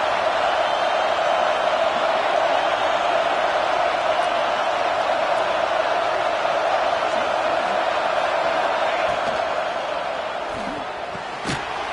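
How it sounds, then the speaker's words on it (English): A stadium crowd in a college football video game roars steadily in the red zone, a loud, sustained wash of cheering that fades slightly near the end. "And the crowd coming to life here, trying to help this defense down in the red zone."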